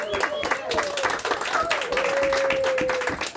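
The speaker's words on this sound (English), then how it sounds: "how about we all give Sheila a huge round of applause for the accomplishment of becoming published" An audience at a book launch for the author's newly published book claps in a dense patter of many hands. A voice carries over the applause.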